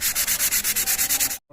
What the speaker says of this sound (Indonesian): Kemudian untuk perawatannya kita bersihkan dengan menggunakan amplas halus